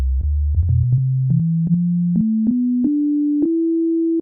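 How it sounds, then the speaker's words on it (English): A pure synthesized sine tone steps upward in pitch, gliding from low to mid across several notes, with faint clicks at each change. "Just a simple sine wave."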